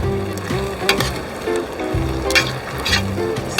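Pasta tossed in a pan with a cream mixture of paprika and speck, a continuous close sizzle and frying hiss broken by repeated soft stirring and scraping motions, no talk.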